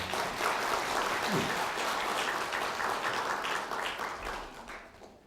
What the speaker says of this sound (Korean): 여러분 축하의 박수 부탁드리겠습니다.